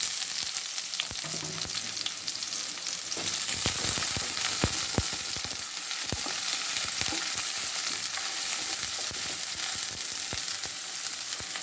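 Onion and fennel seeds fry in a pan until golden, a constant close sizzle broken by frequent stirring scrapes and taps, with no speech.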